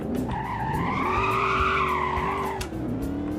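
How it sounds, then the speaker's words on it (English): A Hellcat Charger on drift tires in the Roblox game slides with a loud, sustained tire squeal whose pitch rises and falls over about three seconds, backed by engine rumble. "you can put on drift tires, just whip it around."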